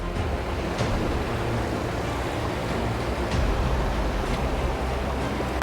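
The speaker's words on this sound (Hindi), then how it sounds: "अबे पानी बहुत जोर से आ रहा है रे" Water rushes strongly at Belapur waterfall, a loud, steady broadband roar close by on a rocky trek, with gusty wind buffeting the microphone.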